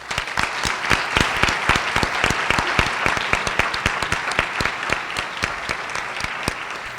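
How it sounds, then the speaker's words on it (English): Steady, dense applause from an audience at an evening parent forum on Common Core, many hands clapping continuously at close range with no voices over it. "Please give them one more round of applause."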